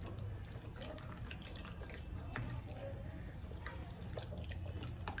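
Cauliflower stalks are rinsed under running water in a sink, a steady trickle with scattered drips and splashes, fairly faint and close.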